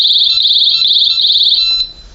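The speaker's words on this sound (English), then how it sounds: "You see it trip the alarm right there because of that vibration" A door and window vibration alarm sounds a steady, loud, high-pitched electronic tone for about two seconds, then cuts off abruptly, with no voices.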